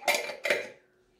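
A teaspoon clinking twice against a bowl while lemon juice is added to cream, two close, bright metallic taps with a short ringing decay.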